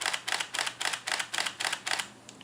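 A Canon camera fitted with a battery grip fires its shutter in high-speed continuous mode, a steady run of about eight crisp mechanical clacks at roughly three per second, close and alone.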